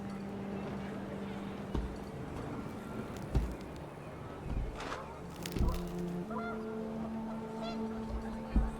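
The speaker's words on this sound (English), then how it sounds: "The wind picked up and panicked geese appeared and quickly went" Panicked geese honk in the video game What Remains of Edith Finch, scattered calls over wind and ambient game sound at moderate distance.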